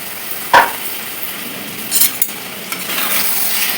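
Chicken neck pieces dropped into a pan with turmeric and pepper powder land with a sharp metallic clink, followed by soft sizzling, a few scraping stirs and a spatula knock, close by and with no voices.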